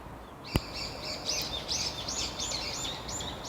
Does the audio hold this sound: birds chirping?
yes